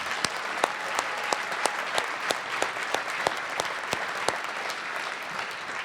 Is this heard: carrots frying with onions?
no